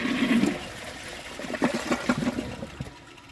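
A short flush on a Jacuzzi Perfecta toilet sends a brief gush of water into the bowl, followed by gurgling and trickling that fades out, heard close up.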